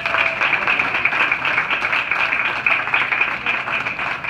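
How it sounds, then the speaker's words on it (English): An audience at the grand opening of an airport bookstore claps in sustained, even applause, close and fairly loud, with no talking over it. "Round of applause, please."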